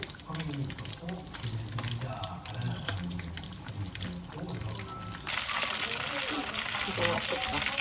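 Food deep-fried twice in oil, first at low then at high temperature, gives a continuous crackling sizzle with bubbling and occasional stirring. The sizzle grows brighter partway through while people talk over it.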